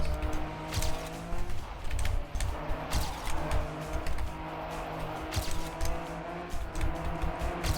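Rally car racing in the Trackmania video game, a continuous engine drone with rising and falling pitch, repeated tire and gravel noise, and light keyboard tapping close by.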